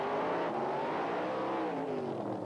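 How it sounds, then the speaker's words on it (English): Drag racing cars from the 1980s Australian scene, including a Willys, rev hard during a dry burnout, a loud continuous engine roar with rising and falling pitch sweeps throughout. "The Wild Bunch guys, they really love to do these dry burnouts."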